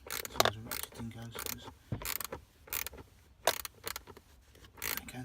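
A ratchet clicks in uneven short bursts while tightening a bolt on the cabin filter cover of a Nissan Navara or Pathfinder, close by, with faint mechanical creaks and rattles between strokes.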